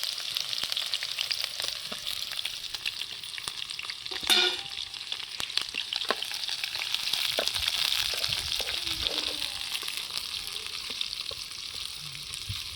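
Onions and green chillies fry in a pan with a continuous close sizzle and crackle, punctuated by occasional scraping stirs and a brief louder clatter.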